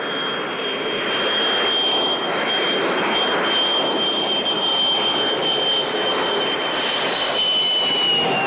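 A fixed-wing aircraft taking off, a loud, sustained roar of jet engines with a high whine running steadily throughout, heard alone without voices.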